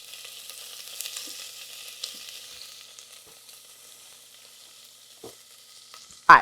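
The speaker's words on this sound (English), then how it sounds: "Instapot going. I got it on saute. Got about a tablespoon of avocado oil." Beef sizzles in about a tablespoon of avocado oil in a small Instant Pot set to saute, a steady soft hiss that fades slightly over time before a sudden loud knock at the very end.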